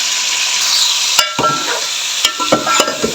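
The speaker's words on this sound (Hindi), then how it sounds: "तो बस मैं इसको भूनती हूँ फिर आपको दिखाती हूँ।" Chicken frying and being stirred in a pan, a steady sizzle under sharp scrapes and clatters of the spoon against the pan, close and fairly loud, no talking.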